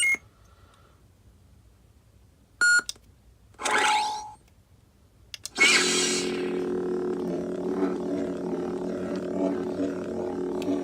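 A Korbanth OWK lightsaber with NBv4 soundboard gives a short electronic beep and a sweeping tone, followed by a loud sustained buzzing hum that fills the rest of the clip.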